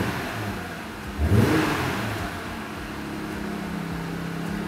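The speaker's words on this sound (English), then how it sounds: "give a quick rev" A 2018-2021 Jeep JL or Gladiator engine, fitted with a throttle booster, gives one quick rev that swells briefly over a steady idle and then settles back to the idle hum.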